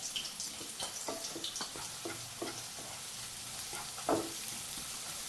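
Prawn roast masala with turmeric sautéing in a pan, a soft continuous sizzle with light irregular stirring scrapes and one sharper knock near the end.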